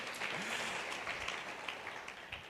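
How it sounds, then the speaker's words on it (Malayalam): An audience at a church gathering applauds, a brief burst of clapping that is faint and fairly distant. "കൃപാസനം എന്ന് പറയുന്ന ഈ മോന് വേണ്ടി ഒന്ന് കൈയടിക്കാം."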